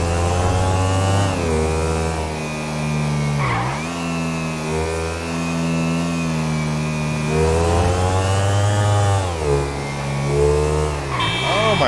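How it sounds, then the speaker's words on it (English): A Ducati Desmosedici GP motorcycle engine in GTA 5 revs and accelerates with a steady, rising and falling harmonic whine, loud and close throughout, dipping briefly and climbing again as it shifts through gears. "This motorcycle has a lot of power."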